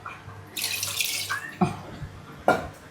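Water pours into a pot of meat. A close, splashing stream runs for about a second, then shorter pours and splashes follow.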